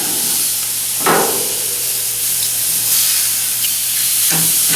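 Pork tenderloin searing in a hot pan after being flipped, producing a loud, steady hiss and sizzle close by, with brief bursts of spitting as the pieces are turned.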